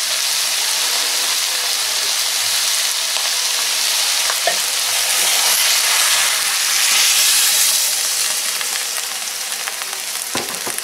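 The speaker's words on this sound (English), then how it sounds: "we're going to add that beef broth in." Beef broth poured into a hot chili pot sizzles and hisses loudly and continuously, a bright frying noise that swells briefly mid-way, with faint stirring clinks and no talk.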